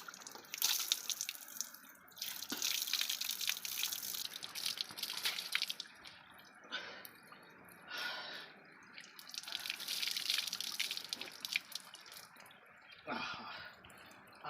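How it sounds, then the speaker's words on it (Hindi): Warm water splashing and trickling as someone washes their face outdoors in a village, with close, uneven bursts of splashing and dripping that come and go. "गर्म पानी है। इससे मैं अपना थोड़ा मुंह धो लेता हूँ।"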